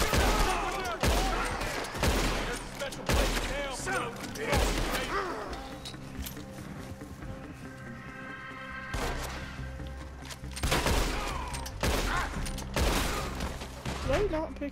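Gunshots from a gun in Red Dead Redemption 2 ring out as a series of sharp, loud reports spaced a second or two apart, with a lull partway through and some talk between shots.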